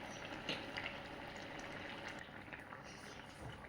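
Mackerel curry boiling in a pot on the stove, a steady bubbling hiss that holds even and fairly quiet throughout with no talk.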